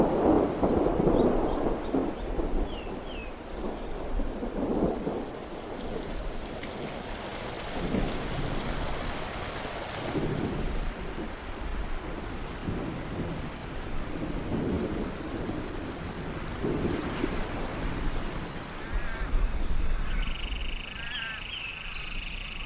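Heavy desert rain falls steadily in a thunderstorm, a dense hiss carrying on throughout, with several deep rolls of thunder swelling and fading at intervals.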